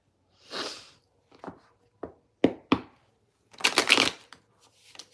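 A deck of cards is shuffled close by in a quiet room: several separate riffles and taps, with a longer, denser burst of rapid card flutter near the end.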